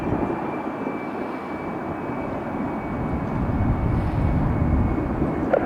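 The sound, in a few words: jet airliner taking off from runway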